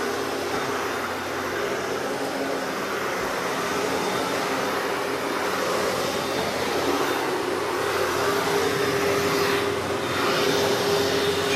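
Vacuum cleaner running on commercial carpet, a loud continuous motor roar and airflow hiss that holds steady throughout with only slight shifts as it moves.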